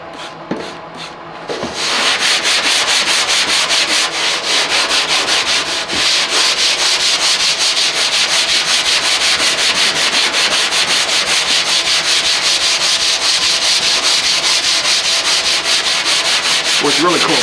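A Scotch-Brite pad soaked in Goo Gone scrubs a rusty truck fender in a steady, fast back-and-forth rub, loud and close, continuing without pause after a short quiet start.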